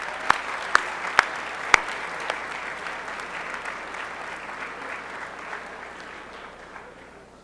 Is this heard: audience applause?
yes